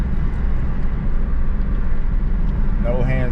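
Steady low road and engine rumble from a rebuilt car bought at a Copart auction, heard from inside as it cruises straight, with a voice speaking over the hum toward the end.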